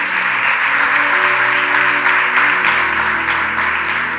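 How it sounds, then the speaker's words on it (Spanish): A church congregation claps loudly and continuously at a worship service, a thick wall of applause with a sustained organ or keyboard chord underneath that shifts partway through. "Den un aplauso a Dios,"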